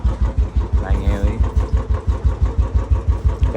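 A motorcycle engine is started and settles into a loud, close, rhythmic chugging with evenly spaced pulses, heard clearly near the rider while a voice talks over it.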